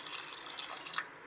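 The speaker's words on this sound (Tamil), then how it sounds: "1 டம்ளர் தண்ணியை ஆட் பண்ணிக்கிறோம்." Water poured in for a mutton biryani makes a quiet, continuous liquid trickle and splash heard close up, with no talking.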